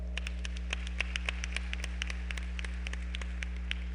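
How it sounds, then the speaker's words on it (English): Scattered light applause from an audience at a prayer breakfast, sparse claps heard faintly over a strong steady electrical hum. "Give him a round of applause."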